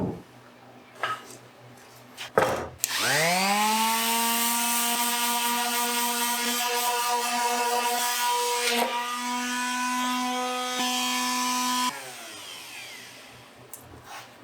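A power sander works wood for an epoxy desk, spinning up after a couple of seconds into a loud steady whine with a constant tone for about nine seconds, then cutting off to quieter handling noise.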